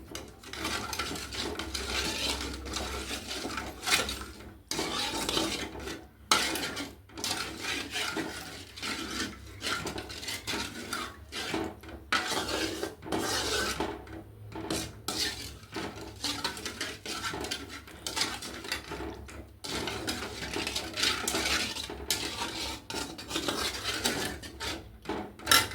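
A spoon stirs water through a pot while cooking rice putt, with repeated scraping and clinking strokes in an uneven rhythm, close and moderately loud, with no talk.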